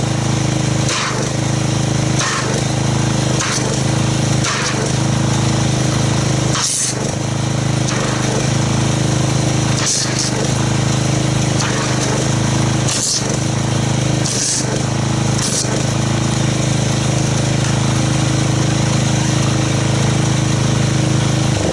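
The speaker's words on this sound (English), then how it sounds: "let me get the pressure washer fired up" A gas pressure washer runs steadily and loudly throughout while car-wash soap is being agitated, with a constant engine drone broken by periodic short bursts and dips as the trigger is pulled.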